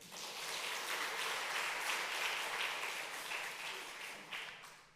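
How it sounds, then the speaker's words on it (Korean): A church congregation gives a round of applause for the worship leader, a dense, even wash of many hands clapping that swells and holds at moderate level before tapering off, with no talking. "박수 한번 주세요"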